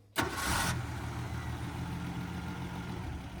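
An old car engine, sitting unused for 35 years, catches and settles into a steady, rumbling idle after a sharp start, running continuously and moderately loud with no voices.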